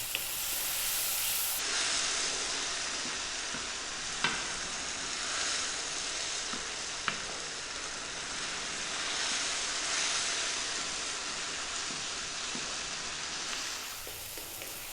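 Tomatoes and spices for dal fry cook down in a pan with a steady, dense sizzle and hiss that runs unbroken throughout, with a few faint clicks of stirring; no voices.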